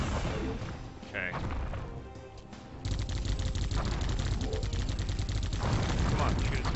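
Gunfire in the Geist video game, aimed at an enemy's back: rapid, dense shooting that starts partway through and keeps going loud to the end, with someone talking over the quieter opening.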